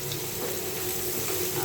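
Onions fry in a pan, giving a steady, dense sizzle that runs unbroken for a moment at close range.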